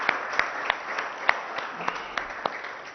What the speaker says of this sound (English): they deserve a huge round of applause from all of us